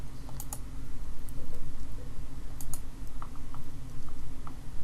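Keys tapped in quick bursts on a computer keyboard as a search term is typed, fairly close and steady over a low background hum, with no talking.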